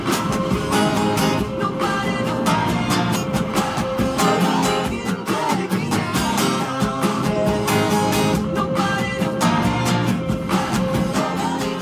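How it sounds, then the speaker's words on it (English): Acoustic guitar strummed in a steady down-up pattern on the chords of a song, dense continuous strokes played close with no voice. "we're simply going to go down, up, down, up, like this"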